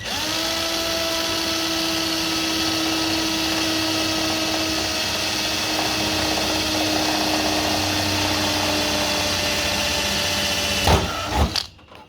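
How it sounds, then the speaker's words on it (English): Blunt power drill boring a pilot hole during a Mk2 Escort parcel shelf repair, a steady whining motor drone held close and loud for about eleven seconds, then stopping with a couple of short bursts and clatter. "Bluntest drill in the world."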